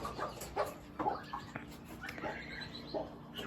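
Broiler chickens cluck softly in short, irregular bursts from a few birds nearby, quiet and scattered over a low background hum.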